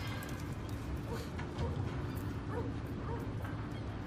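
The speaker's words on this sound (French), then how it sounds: "Sympa ton chien." A dog gives a few short yips and whimpering barks at close range over a steady low background murmur, in a street greeting where people are present.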